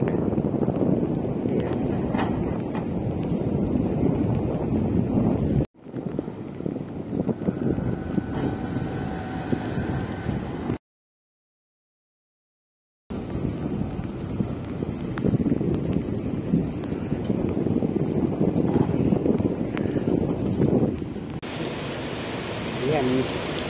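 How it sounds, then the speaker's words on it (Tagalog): Strong wind by Manila Bay buffets the microphone in loud rumbling gusts, mixed with rain noise, cutting out briefly partway through before roaring back. "Medyo malakas din ang hangin dito."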